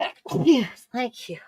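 A single sharp sneeze in an indoor conversation, with a voice speaking briefly before and after it.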